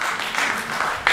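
An audience clapping at a lecture on economics, a brief burst of dense, mid-distance applause that fills the whole moment without a clear start or end.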